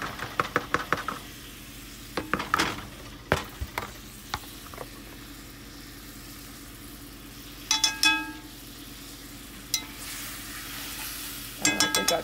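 Onions going into a pot for homemade beef stew, a soft sizzle under bursts of clattering and scraping from a spoon against the pot, with quiet stretches between.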